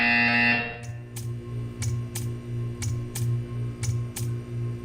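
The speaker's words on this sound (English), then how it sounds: "When you hear the buzzer, stare at the art." A harsh electronic buzzer in the video game Portal 2 sounds in short, regular pulses, about eight in a row, over a low steady hum.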